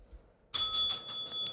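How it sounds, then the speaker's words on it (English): A quiz bowl bell marking the end of a round sounds suddenly after brief quiet, a bright rapid metallic trill ringing out for about a second. "that bell sounds the end of our final round"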